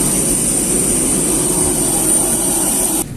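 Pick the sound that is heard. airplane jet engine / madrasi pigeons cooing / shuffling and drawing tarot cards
airplane jet engine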